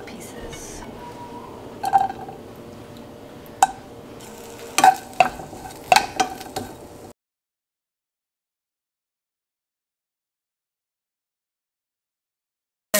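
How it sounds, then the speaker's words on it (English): Chorizo sausage pieces hitting a pan on medium heat, with a low sizzle under several sharp clinks and scrapes from stirring during the first seven seconds, then near silence. "I have it on medium heat. And I'm just gonna dump all the sausage pieces."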